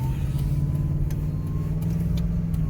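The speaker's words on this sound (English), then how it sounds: "I'm gonna just pull out in traffic real soon to let y'all see how this transmission acts" A 2002 Ford Explorer with a troubled 5R55S transmission pulls out into traffic, its engine giving a steady, close mid-pitched drone with a low hum throughout and no speech.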